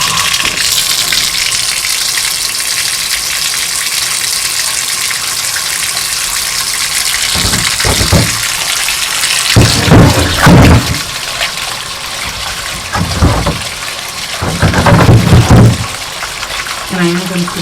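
A tap gushes steadily into a container, drawing water to rinse plastic milk crates, with louder splashing and clunking bursts in the second half.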